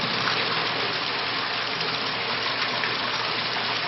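Water streams steadily from a Bradley Navigator thermostatic mixing valve throttled down to eye wash flow, a continuous, even gushing hiss with no pauses and no voices.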